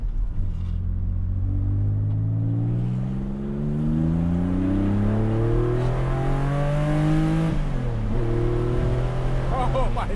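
A restored 1980 Porsche 911 engine revs repeatedly, pitch climbing and dropping in smooth sweeps, loud and close with a deep rumbling exhaust throughout.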